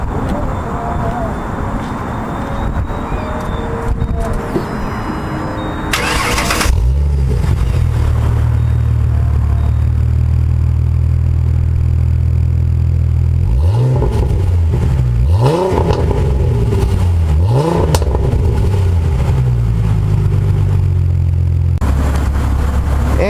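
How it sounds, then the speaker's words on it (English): A 2008 Ford Mustang with a 4-liter V6 cranks and fires up, then settles into a steady loud idle through its mufflers, punctuated by several sharp revs that climb and fall, with brief talk early on. "I'm going to start it up for you so you can hear those pipes mufflers in action"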